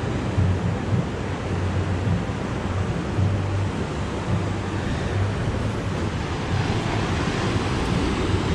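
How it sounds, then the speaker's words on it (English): Big ocean waves break and surge along the Gold Coast shore in a steady, loud wash of surf with wind buffeting the microphone, and no voices are heard. "Big waves."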